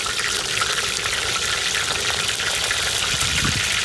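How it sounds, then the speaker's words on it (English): Halibut cheeks searing in a hot pan, a steady, loud, continuous sizzle with fine crackle throughout and no voices. "This isn't fried fish, it's seared fish."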